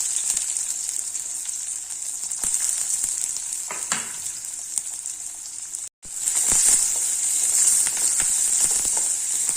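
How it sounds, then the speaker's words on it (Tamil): Onions sizzle steadily in a hot pan with fennel seeds and curry leaves, a close continuous frying hiss with occasional stirring clicks and a brief gap in the middle. "கொஞ்சம் கண்ணாடி பதத்துக்கு வதங்கட்டும்."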